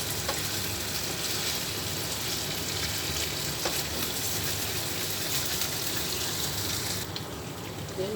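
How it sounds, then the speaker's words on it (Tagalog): Cooked oats rice sizzles and crackles steadily in a hot pan as it is dry-fried, a dense continuous hiss close to the microphone with no talk. "parang prito na ulit"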